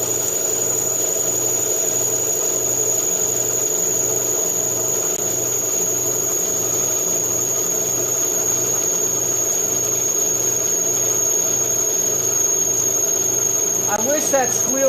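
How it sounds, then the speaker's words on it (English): Air compressor runs with a steady, piercing high squeal over a low pulsing rumble. A voice talks over it throughout. "I wish that squeal would stop."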